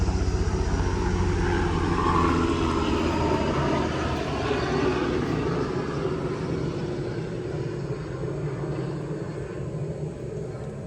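A low, steady engine drone of a military helicopter overhead, loud at first and slowly fading as it passes.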